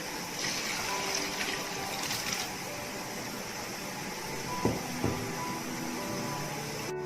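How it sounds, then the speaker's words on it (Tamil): Cooked mutton and its cooking water pour into a pan for mutton kulambu, a steady soft splashing and trickling stream with a couple of clinks near the end. "இப்போ மட்டனை வேக வச்ச தண்ணியோட ஊற்றிடலாம்."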